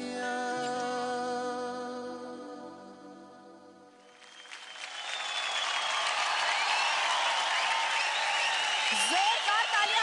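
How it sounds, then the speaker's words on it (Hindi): A studio audience breaks into loud applause and cheering after a dance act on a televised dance competition, music fading out before dense clapping swells and sustains for several seconds. "जोरदार तालियां हो जाए अमित और फैलन के लिए"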